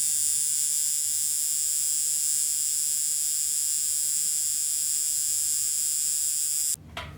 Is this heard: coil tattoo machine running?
yes